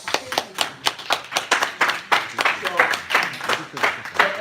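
An audience applauds, with sharp, regular claps in a steady rhythm filling several seconds, sounding like a modest group rather than a large crowd.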